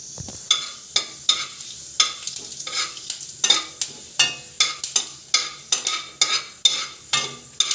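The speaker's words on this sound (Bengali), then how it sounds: "জিরেটা ভাজা ভাজা হয়ে গেছে।" Ground cumin fries in hot oil, giving a steady low sizzle broken by regular, rhythmic scraping strokes of a spoon against the pan about twice a second. No one is talking.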